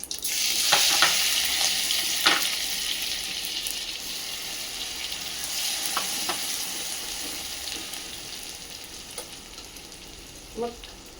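Chillies and cumin seeds frying in hot oil make a steady close sizzle with scattered crackles and a few stirring clinks, no talking.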